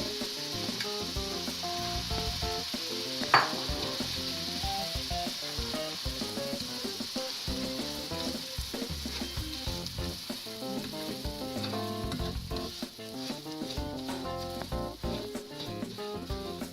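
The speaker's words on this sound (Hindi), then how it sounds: "घी गरम हो गया, इसमें सूजी डालूँ।" Semolina roasting in hot desi ghee in a pan, a steady soft sizzle and hiss running continuously with faint stirring, one brief sharp knock early on.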